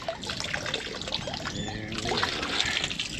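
Water trickles and splashes steadily from a broken poly pipe at a T fitting after the supply is turned back on, a close, continuous wet dribble with no talk.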